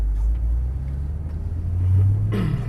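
A drifting car's engine revs loudly nearby with a deep rumble, the pitch climbing and holding before a sharp burst of tire noise near the end.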